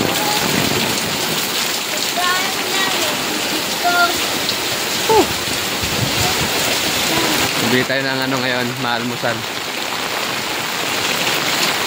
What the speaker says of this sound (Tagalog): Tignan mo naman yung ulan na yan, grabe yung kakapal oh